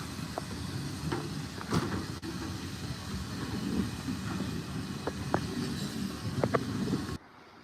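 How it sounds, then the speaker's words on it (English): A steam train pulling out of Foxfield station on the Foxfield Railway: a steady low rumble and rolling clatter with occasional sharp knocks, continuous for several seconds before cutting off abruptly. "That's the train gone."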